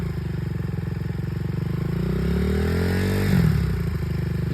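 A dirt bike engine idles in a steady rapid putter, then rises in pitch as it pulls away in first gear, loud and close with a brief clattering scrape; no voices.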